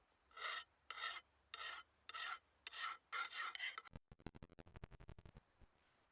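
A hand file rasps along the blade of a Hultafors Agdor Classic axe in about seven steady, even strokes, followed by a run of quicker, shorter scraping passes, close and clear.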